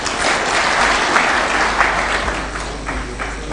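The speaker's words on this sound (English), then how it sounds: "a round of applause for His Excellency one more time" An audience at a taxpayers' dinner breaks into sustained applause after a presidential speech, dense and loud clapping that holds steady throughout before easing slightly toward the end.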